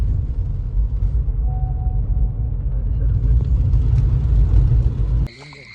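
A vehicle engine rumbles steadily at close range while driving at night, a low continuous drone that cuts off abruptly near the end, with voices talking over it.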